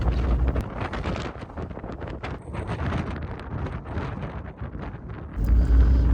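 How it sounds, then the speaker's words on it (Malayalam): Strong wind buffets the microphone in the Falkland Islands near Port Stanley, a loud rumbling roar with gusts that surge sharply toward the end, no voices. "നല്ല ശക്തിയായിട്ട് കാറ്റ് വീശുന്നതുകൊണ്ട് തന്നെ ഒരു രക്ഷയില്ലാത്ത തണുപ്പുണ്ടായിരുന്നു"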